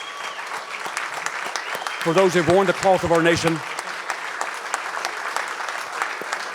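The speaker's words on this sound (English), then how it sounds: "please look around and join me in a round of applause" A crowd applauds in honour of military veterans of the Iraq and Afghanistan wars, with a speaker's voice heard over the steady clapping before and after it.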